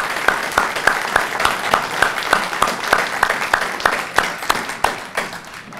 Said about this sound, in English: Let's give a big round of applause for all of our award recipients today.